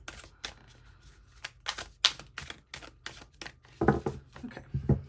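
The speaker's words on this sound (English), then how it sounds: "one more shuffle, just to make sure we're nice and mixed up" Large tarot cards shuffled by hand in a series of quick, crisp riffling snaps and slaps, close and fairly quiet, with a denser burst of handling near the end.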